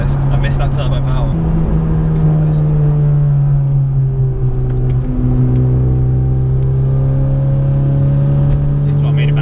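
A Honda Civic Type R, FD2 or FK2, accelerates hard while driving, its engine note climbing through revs in long rising sweeps with gear changes, loud and close from inside the cabin.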